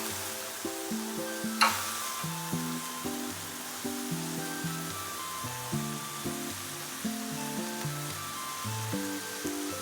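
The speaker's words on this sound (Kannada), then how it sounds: "ಒಂದು ನಿಮಿಷ ಫ್ರೈ ಮಾಡ್ಕೋಬೇಕು," Tomatoes fry in a pan while upma is prepared, giving a soft steady sizzle with a few light clinks and stirring sounds, near and continuous.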